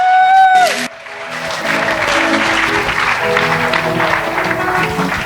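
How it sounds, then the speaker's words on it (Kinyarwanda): A church congregation breaks into loud, sustained applause after a brief voiced tone. The clapping is dense and even and stays strong until the end, with some crowd noise mixed in. "Abemera ko tuzatabagwa tuyongerera amashyi Imana yacu"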